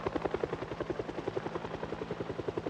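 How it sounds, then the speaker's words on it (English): Helicopter flying over in the video game Project Zomboid, a steady, loud rotor thumping in a fast regular rhythm throughout, heard alone. "he turned on debug mode so he could make the helicopter come"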